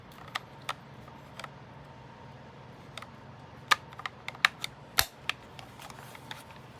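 A Tetris cartridge goes into an original Nintendo Game Boy DMG handheld, heard as a sparse series of faint plastic clicks and taps that grow into a few sharper snaps near the end.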